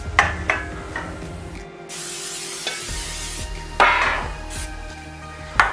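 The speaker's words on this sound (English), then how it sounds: "We're just going to go ahead and hit them with a little bit of baking spray." A short hissing burst from an aerosol can of baking spray on cake pans, with clattering knocks of the pans being handled before and after.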